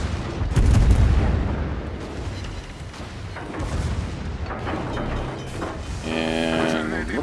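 Heavy naval gunfire from a Moskva warship in World of Warships during a ranked match, deep booming shots and rumbling blasts rolling on, with someone talking over the battle noise.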